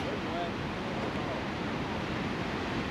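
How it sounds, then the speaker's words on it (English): Lower Falls in Yellowstone plunge into the gorge with a steady, broadband roar of rushing water, heard from a distance at the viewpoint, constant and unbroken with some wind noise. "So now you can see the lower falls are falling into the gorge."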